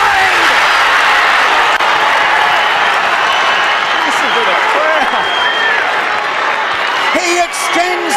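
Large crowd at the 2025 Bendigo Football Netball League senior grand final between Sandhurst and Eaglehawk roaring and applauding after an Eaglehawk goal, a dense sustained wash of cheers, whistles and clapping throughout, with a commentator's voice faintly present.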